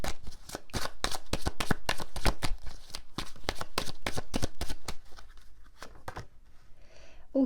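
Tarot cards are shuffled by hand for a reading: a rapid run of crisp, evenly spaced riffling snaps up close, then a few sparser, softer shuffles before a brief pause.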